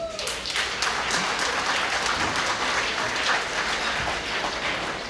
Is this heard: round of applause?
yes